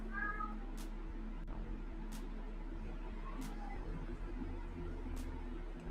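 A house cat meows several times in short, spaced calls, fairly faint against a steady low hum indoors.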